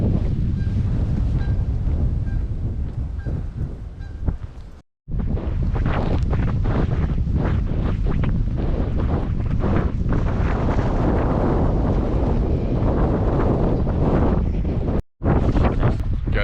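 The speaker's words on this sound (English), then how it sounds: "It's getting kind of windy." Strong wind buffets the microphone on a road walk beside a state game area, a loud, continuous roaring rush with gusty surges and two abrupt brief dropouts.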